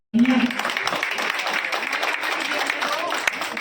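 An audience applauds at a welcome ceremony in Pinjore, a sudden, dense burst of clapping that holds steady at a loud level, with a brief voice at the very start.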